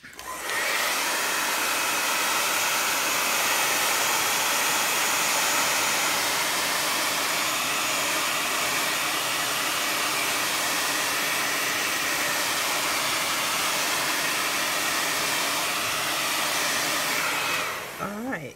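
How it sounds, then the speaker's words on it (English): A hair dryer blow-drying alcohol ink paint on background paper: a steady, loud whirring roar of air that holds for about eighteen seconds and then cuts off at the end, with no voice. "So what I'm going to do is I'm going to blow dry it a little bit."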